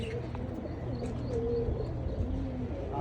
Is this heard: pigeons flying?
yes